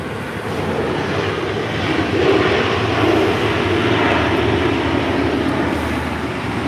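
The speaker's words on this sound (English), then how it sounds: "This arrival is Delta Airlines 1641 coming in from Orlando on a 737-900ER" A Delta Airlines Boeing 737-900ER arriving at LAX from Orlando gives a loud, continuous jet roar, close and steady with a mild swell midway and no voices.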